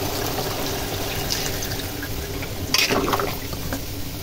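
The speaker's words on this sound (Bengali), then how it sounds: "আরও যে গরম পানিটা, এই পানিটা আমি এর মধ্যে দিয়ে দেবো।" Hot water poured into a pot of beef being braised with whole spices, a steady liquid pour and sizzle running throughout with a louder splash near the end, close and alone.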